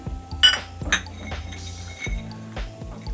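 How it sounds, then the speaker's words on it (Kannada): Cashews and almonds tipped into a pan for frying, giving light clinks and small rattles of nuts and utensil against metal, a few distinct hits over a low background. "ಇವಾಗ ಮೊದಲಿಗೆ ನಾನು ಗೋಡಂಬಿಯನ್ನು ಹಾಕ್ತಾ ಇದ್ದೀನಿ."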